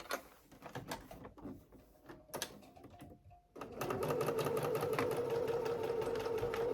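A sewing machine stitches knit fabric for a tank top, its motor starting after a few quiet handling noises and then running steadily and loudly in a continuous close hum for the last few seconds.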